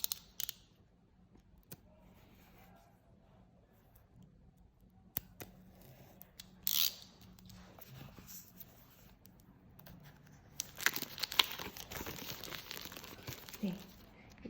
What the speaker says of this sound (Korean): 이 비닐을 뜯기는 순간이 가장 즐겁죠.